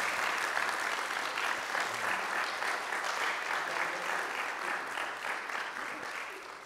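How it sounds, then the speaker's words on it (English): A university lecture audience gives a steady round of applause that stays loud throughout and slowly fades toward the end. "Yeah, round of applause"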